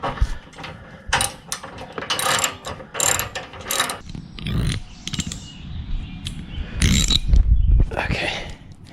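Ratchet wrench tightening skid guard bolts under a 2016 Subaru Outback 3.6R Limited, bursts of close, rapid clicking strokes with short pauses and some handling clatter between them.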